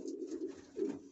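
Viennese flying pigeons in a loft coo softly and continuously, a low rolling murmur that swells twice, close by with no voices.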